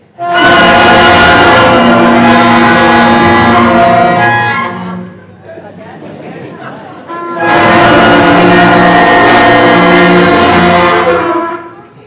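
Sixth-grade middle school band plays two loud sustained ensemble chords of brass and woodwinds, each several seconds long, separated by a brief quieter gap with faint sounds from the room.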